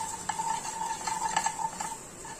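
Green chili frying lightly in a pan, a soft sizzle under light metallic clinks and stirring taps of a utensil, close and moderately loud, no speech.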